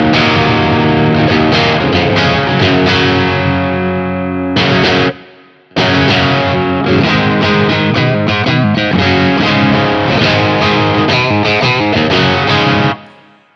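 Hard-picked Stratocaster with three single-coil pickups through a BT Arkon 50 amp preset: dense, driven electric guitar chords played continuously and loud, with one brief cut near the middle, no talk.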